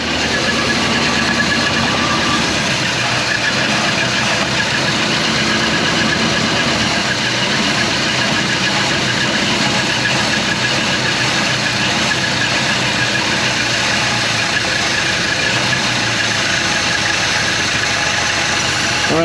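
A 1956 Chrysler Windsor wagon's 354 HEMI V8, a car that ran when parked, idles close by with a steady, loud, rough rumble and burning fogging oil, continuous for about twenty seconds with no talking.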